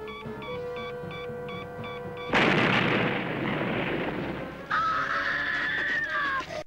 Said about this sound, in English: has run straight into a building with explosives set to go off any second